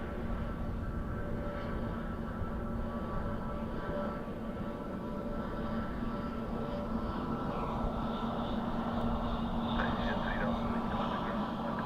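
At Dublin Airport an Emirates airliner produces a steady, distant jet roar that holds constant with a slight swell near the end, with a faint voice murmuring beneath.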